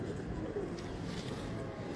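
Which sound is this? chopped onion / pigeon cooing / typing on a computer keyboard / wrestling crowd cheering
pigeon cooing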